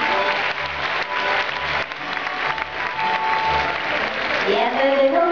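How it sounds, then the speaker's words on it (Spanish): A crowd applauds loudly and steadily throughout, welcoming volunteers at a dolphin show at the Oceanogràfic, with voices faintly audible underneath and a voice rising near the end. "lo recibimos con un fuerte aplauso"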